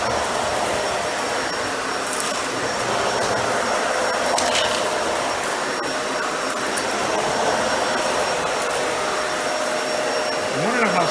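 A Dyson Ball Animal 2 upright vacuum runs across an area rug, a continuous loud whooshing roar with brush bar rumble that stays steady for about eleven seconds, close to the listener.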